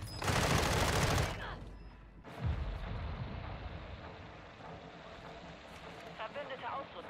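Gunfire in the Warzone 2.0 video game: a dense, loud burst of rapid shots at the start, then continued scattered firing and battle noise under someone talking.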